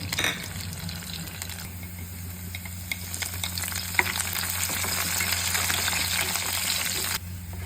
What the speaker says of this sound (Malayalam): നമ്മുടെ ഉള്ളിയൊക്കെ നല്ലോണം മുരിഞ്ഞിട്ടുണ്ട്